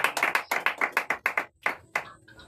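A church congregation claps in a quick, even rhythm of about a dozen sharp claps, close and fairly loud, slowing and thinning out toward the end.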